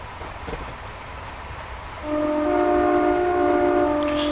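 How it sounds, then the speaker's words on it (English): A class 365 electric train in Train Simulator 2014 runs along with a low rolling rumble, then its two-tone horn sounds loudly and holds for a couple of seconds over the running noise. "You notice that the horn is actually incredibly loud when you're at the back of the train"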